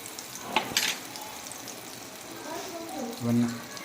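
Quiet sizzling and crackling of butter in a pan while cooking butter garlic chicken, with a couple of sharp clinks early on and soft background murmur, growing slightly louder toward the end.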